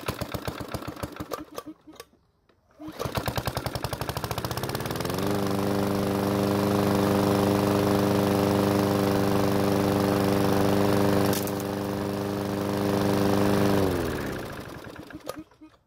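PowerSmart lawn mower engine with low compression, already warm, cranking slowly with rapid pull-start chugging, a brief pause, more cranking, then catching and running with a steady drone before winding down near the end.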